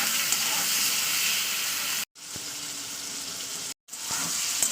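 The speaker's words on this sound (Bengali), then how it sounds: "তো এটাকে আমি ভালো করে তেলে একটু নাড়াচাড়া করে নেবো।" Seven or eight chopped tomatoes sizzle loudly in hot oil as they are stirred in a pan, a continuous close hiss broken by two brief silences.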